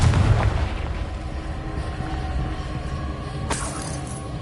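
An explosive blast from the Confringo spell in the Hogwarts Legacy video game, a loud boom at the start that fades into a rumbling decay, with a sharp crack of debris later on.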